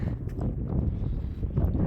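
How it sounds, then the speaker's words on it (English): Wind buffets a rock outcrop high in the Graceland Highlands State Park area, a steady loud roar of gusts hitting the microphone for the whole stretch, with no talking. "Kind of windy up here"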